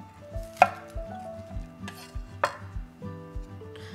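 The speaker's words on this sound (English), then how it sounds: "And then take my knife and just run it right along the edges here." A knife cutting along the edges of a halved cauliflower, giving a few sharp close cuts and knocks on a board over a quiet background, with no talking.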